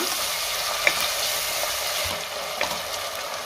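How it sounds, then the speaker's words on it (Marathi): Tomato sautéing in hot tempering oil, a continuous bright sizzle with occasional spatula scrapes and light clicks, close and steady without talk. "टोमॅटो मी 1 मिनिटभर चांगला परतून घेणार आहे"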